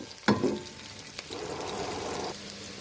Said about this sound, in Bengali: সো পেঁয়াজ আর গরম মশলাটা আমি এটা একটু ফ্রাই করে নেব খুব সুন্দর একটা বাদামি কালার করে নেব